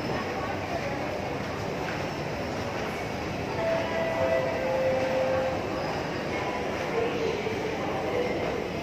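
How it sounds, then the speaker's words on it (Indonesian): A train rumbles steadily through a station with broadband mechanical noise, a few faint tonal squeals rising briefly in the middle, as people talk underneath. "Kereta tadi sudah lewat, nah ketinggalan itu sudah jalan."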